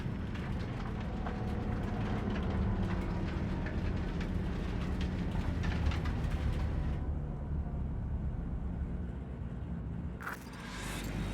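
A train in the Cyberpunk 2077 video game rumbles past as a dense, continuous roar with a steady low drone that swells and then thins toward the end. No one speaks.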